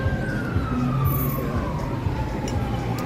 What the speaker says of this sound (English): I guess it was a parade of the Red Cross vehicles